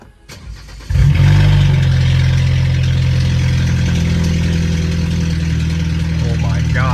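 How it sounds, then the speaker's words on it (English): BMW F30 320i with the N20 engine and a 3-inch straight pipe exhaust starts up and settles into a loud, deep, steady idle with a rough pulsing drone, close by. "Let's hear the straight pipe."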